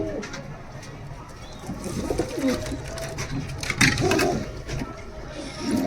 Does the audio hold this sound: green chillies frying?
no